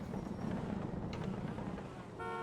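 A car horn sounds in a sumo video game as a player falls: a brief harmonic honk near the end, over dense busy game noise and a rumbling mix.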